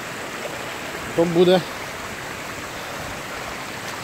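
Water rushes down over rocks in a mountain stream, a steady broad roar close by, with a brief voice speaking over it.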